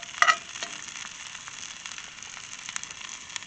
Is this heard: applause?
no